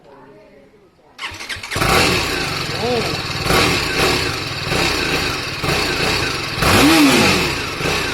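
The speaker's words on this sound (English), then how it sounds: "So let's start the engine." A TVS Apache RR 310 motorcycle engine starts up after a moment of quiet, then idles loudly nearby with several throttle blips and revs, while a voice speaks briefly over it.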